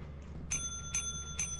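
A shop bell in the video game Lethal Company rings three times at an even pace, each a bright, clear ding with a ringing tail, standing alone over a low background hum.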